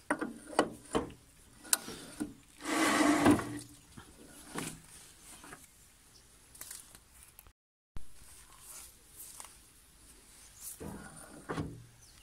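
A Petter engine on a dumper is turned by a crank handle, giving ratcheting, clunking mechanical turns in short bursts with a brief pause partway, close and fairly quiet.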